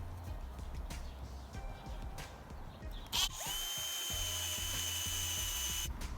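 A power drill boring holes into a folding bike front bag frame: short bursts of drilling early, then a steady, loud high-pitched whine that runs continuously to the end.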